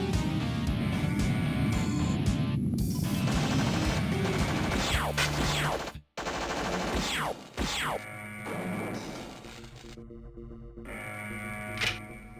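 Magpulse weapon firing in System Shock (1994), a run of loud crashing, zapping blasts amid dense game effects, with sweeping descending tones and a brief dropout midway, no talk.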